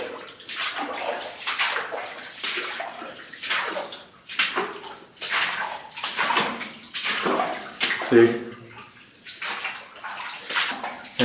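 Water drains and splashes steadily through the mud and rails of an old mine tunnel, a continuous rushing and gurgling with surging pulses, and a voice briefly speaks over it.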